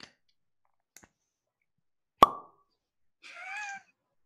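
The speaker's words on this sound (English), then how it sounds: "That was me popping a battery out of my battery case." A single sharp plastic pop with a short rattle as a battery is popped out of a battery case, preceded by faint clicks and followed by a brief murmur of voice.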